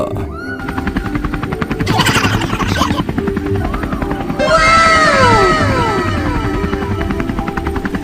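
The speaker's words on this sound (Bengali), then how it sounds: "আমার হেলিকপ্টারটা আছে না সেটা দিয়ে বাতাস কর" A cartoon helicopter, used as a fan, gives off a loud, steady rapid rotor chop that runs through the whole scene, with a brief whooshing burst and some squealing effects laid over it.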